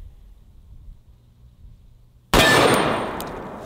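A 500 S&W Magnum revolver fires a single 700 grain T-Rex round: after a near-silent lead-in, one sudden, very loud blast rings out with a bright metallic ring-off that decays over the next second.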